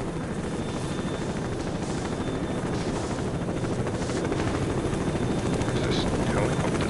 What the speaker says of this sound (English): Is this helicopter still here?